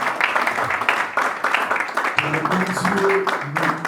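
A church congregation applauds during a worship service, a steady wash of clapping held across the whole stretch beneath a voice speaking over it.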